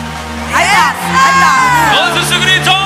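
Concert crowd at a show in Minneapolis shouting and whooping, loud rising and falling yells from many voices close by.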